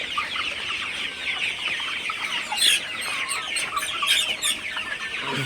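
Sonali super hybrid chickens, around 52 days old, cluck and chatter together in a steady, fairly quiet flock murmur with occasional sharper calls.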